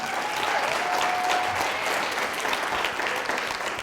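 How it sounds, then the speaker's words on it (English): An audience at an orthodontist study group talk gives a steady round of applause, a dense, even patter of many hands that stays loud and unbroken throughout. "Give a big round of applause again, you guys."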